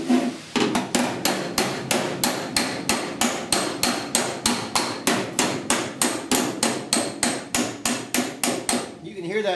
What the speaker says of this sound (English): You can hear that dolly singing when you're on it.